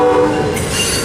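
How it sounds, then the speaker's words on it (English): Amtrak passenger train passing close with its horn sounding, a loud sustained blast over rumbling wheels in a short burst. "we got a train coming up, so it's Amtrak 80."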